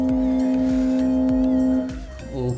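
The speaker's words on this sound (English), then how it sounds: "I am using a speaker, so that's why there is a hectic sound like this." Loud, steady tonal hum from a loudspeaker driving a metal Chladni plate to make sand patterns, with a low pulsing rumble underneath, close by, easing off near the end.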